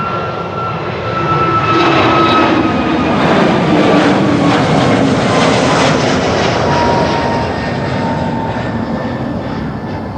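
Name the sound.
Etihad Airbus A321neo jet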